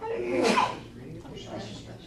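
A single sharp sneeze bursts out near the microphone during a school district board meeting, followed by brief talk in the room.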